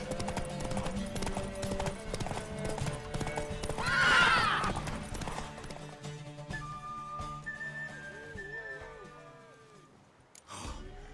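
Steady clip-clop of hooves in The Witcher 3 video game runs throughout, then a horse lets out a loud, drawn-out neigh, with whistling tones afterward.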